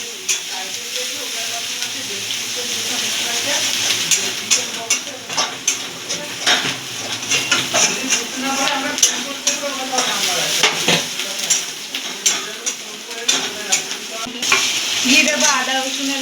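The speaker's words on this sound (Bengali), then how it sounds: "এর মধ্যে দিয়ে দেবো পেঁয়াজ বাটা, একটু লাল করে ভেজে নেব।" Ground onion paste fries in a pan for a doi katla fish curry, giving a continuous close sizzle broken by frequent scraping stirs and clinks of a utensil against the pan.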